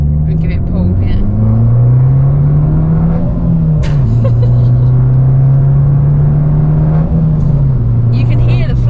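An Abarth 595 Turismo pulls hard under acceleration, its engine note rising steadily and loudly from inside the cabin, with a brief dip at a gear change partway through.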